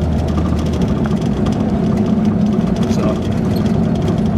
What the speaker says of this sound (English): That's a nice little motor. Runs good.